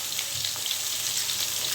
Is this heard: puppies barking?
no